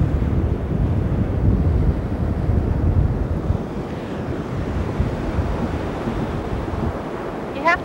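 Ocean surf washing onto a shore, a loud continuous roar of breaking waves mixed with gusty wind buffeting the microphone throughout.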